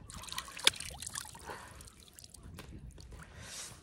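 Someone washing their face with water at a dam in Patratu Valley, heard as faint splashes and drips trickling in soft bursts, with one brief sharper splash near the start.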